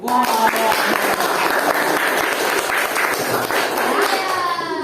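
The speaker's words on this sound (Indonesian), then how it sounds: "Kelompok beri tepuk tangan untuk kelompok 3." A school classroom breaks into continuous applause for a student group, a dense wash of clapping with voices mixed in, loud and sustained throughout.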